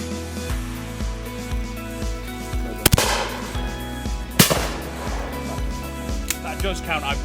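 A Blaser F16 Grade 4 Sporter shotgun fires at clay targets outdoors, two sharp loud reports a couple of seconds apart plus a fainter later crack, with background talk and a low engine drone.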